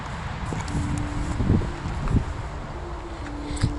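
Wind gusts blow across the microphone with a rough, buffeting rumble, along with faint rustling and a few light knocks.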